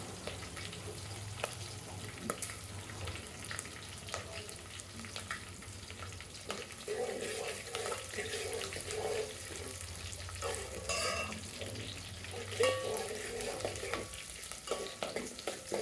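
Curry leaves frying in hot oil for carrot chitranna, a bright continuous sizzle with crackling bursts and occasional stirring clatter, steady and close throughout.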